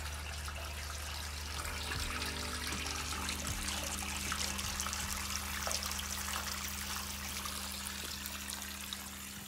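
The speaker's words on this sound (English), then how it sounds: "Here I'm filling it with water for the very first time." Steady running water pours into a paper beater for the first time, a constant close rushing with faint trickling detail and no voices.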